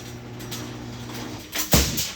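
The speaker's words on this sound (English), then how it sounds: "Sorry about the garage door noise." A garage door rumbles and clatters in a home kitchen setting during brisket prep, a low steady drone that swells into a louder burst of rattling and banging near the end.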